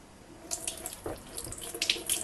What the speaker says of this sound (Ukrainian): Звичайно, перше, що я роблю, гарненько мию перчик.